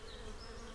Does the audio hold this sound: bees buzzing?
yes